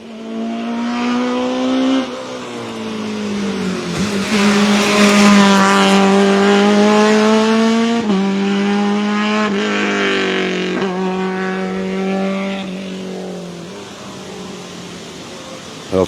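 A Seat race car climbs a hillclimb course, its engine screaming loud and near through repeated gear changes, the pitch climbing and dropping in steps before fading slightly toward the end.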